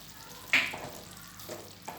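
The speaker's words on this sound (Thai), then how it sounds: "ใส่น้ำปลาลงไปเลยค่ะ" Fish sauce hits simmering caramelized sugar in a pan, producing a quiet sizzle with a brief splash-like burst and soft crackling afterward.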